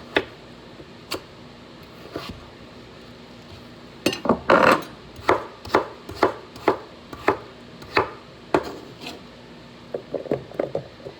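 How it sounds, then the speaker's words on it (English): A knife chops potatoes on a cutting board in sharp, distinct knocks, a few scattered strikes at first, then a steady rhythmic run of close, crisp cuts with no voices. "we'll finish chopping our potatoes"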